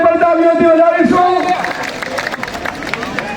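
Applause from the audience at a political rally starts as a spoken announcement over a loudspeaker fades. It becomes a broad, steady crowd clatter of clapping and murmur that fills the last two seconds.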